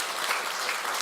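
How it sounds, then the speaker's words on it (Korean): A church congregation claps during Sunday worship after a baptism and confirmation, a brief, even wash of applause at moderate level with no voices over it. "박수 한번 하겠습니다"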